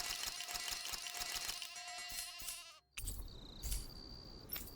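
A sheep bleats in the video game Tales of Arise, a drawn-out tonal cry heard close and clear. After a brief gap, a second, noisier burst follows.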